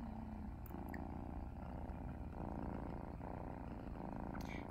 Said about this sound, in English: This is our mother cat,